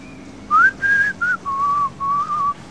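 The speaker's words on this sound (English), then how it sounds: "Everybody whistles in Venice, don't they?" A person whistles a short, bright tune of about half a dozen clear notes, loud and close, in a kitchen before baking focaccia in Venice.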